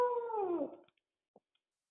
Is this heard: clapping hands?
no